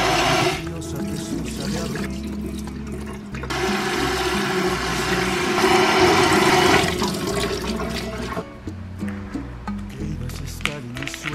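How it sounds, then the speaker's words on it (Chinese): Instant rice noodles rinsed under a running cold tap, a steady rushing stream of water splashing into a sink that fills most of the clip, loud and continuous with small shifts in flow. "我打算用那个凉水给它洗一洗再吃"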